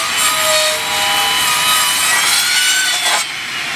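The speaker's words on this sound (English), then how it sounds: "And time to do a little bit of planing." Wood being planed aboard a steel boat, heard as a loud, close, continuous hissing rasp of the blade shaving the surface, with a slight shift near the end.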